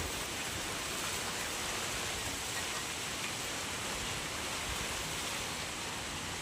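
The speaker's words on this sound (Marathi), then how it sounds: "आला आला पाऊस आला आला भरून आला" Rain falls in a constant, even wash of hiss, soft and unbroken, with no voices.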